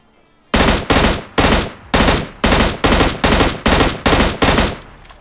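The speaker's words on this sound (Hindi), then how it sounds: "पीछे से कुछ बॉट्स का फायर आ रहा था" Rapid bursts of gunfire from bots in PUBG Mobile Lite, about ten loud, evenly spaced shots in a steady rhythm, close and dominant with no speech.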